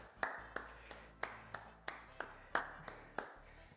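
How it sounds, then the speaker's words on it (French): A small group claps for themselves after finishing a game, a dozen or so sharp, evenly spaced claps in a steady rhythm, close and fairly quiet, with no talk over them. "On peut venir s'applaudir."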